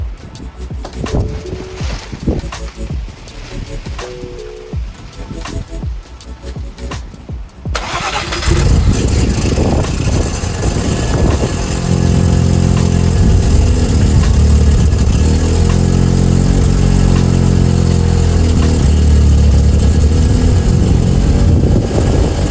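Car engine with freshly wrapped exhaust cranking, then catching and firing up into a loud, rough idle with bursts of revving, very close and alone.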